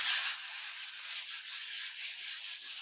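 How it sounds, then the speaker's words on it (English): Sandpaper rubs across a painting canvas to smooth it, a close, steady hiss of back-and-forth strokes with gentle swells and no voices. "Just kind of sand it. And get it to be nice and smooth."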